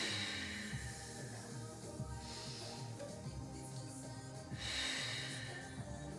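A person inhaling during a Pilates floor exercise, with a soft breath drawn in through the nose over a low background hum, near and quiet, then a second breath toward the end.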